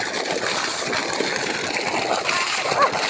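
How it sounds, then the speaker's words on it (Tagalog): Strong gush of water splashing and spattering close by, a steady broadband rush throughout, with a voice exclaiming briefly near the end. "lakas ng tubig."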